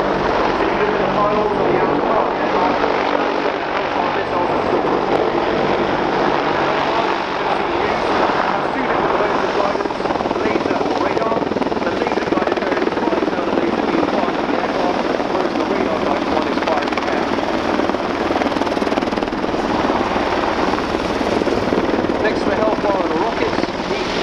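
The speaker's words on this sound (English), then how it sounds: "Whilst the aircraft is manoeuvring" An Army Air Corps Apache attack helicopter manoeuvres over the Dunsfold Wings & Wheels air show, its rotor and turbine roar loud and continuous throughout, with a voice talking over it.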